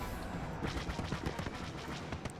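Rapid blaster fire and explosions in the Star Wars Battlefront video game, a dense, continuous volley of bursts at low level.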